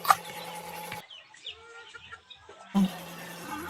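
Rhode Island cross native chickens give soft, scattered clucks in a quiet yard, with brief louder bursts of background noise at the start and end.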